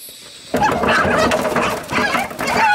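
Farm chickens cluck loudly and close by in busy overlapping calls that begin abruptly after a short quiet moment and keep going in uneven bursts.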